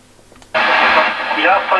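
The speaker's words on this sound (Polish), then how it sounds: "Sprawdzam kolejne radio od klienta, które twierdzi, że nie działa, ale jak słychać, to działa." A customer's radio receiver bursts suddenly into loud, steady static hiss, with a faint transmitted voice breaking through the noise.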